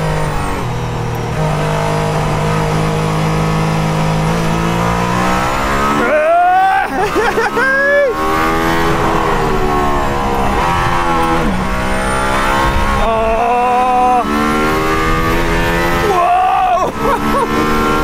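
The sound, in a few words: Mercedes-AMG ONE hypercar engine accelerating out of turns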